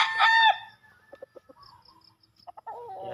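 A rooster gives a short crow at the start, followed by a few soft clucks and low chicken murmurs close by, with a brief squawk near the end.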